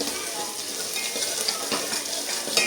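Onions sizzle and crackle steadily in a hot pan, browning to golden for karuvattu rasam, close and fairly loud, with occasional soft stirring scrapes.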